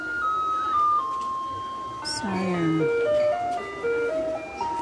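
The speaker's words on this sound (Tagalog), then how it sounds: "Yan na yung truck. Ayan na ang truck." A garbage truck arrives on a street in Taiwan playing its melodic jingle, the tune carrying clearly over traffic noise while people talk nearby.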